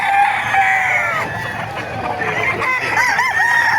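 Gilmore gamefowl roosters at a bustling market crow loudly and cluck close by, several birds overlapping with one another against a busy crowd murmur.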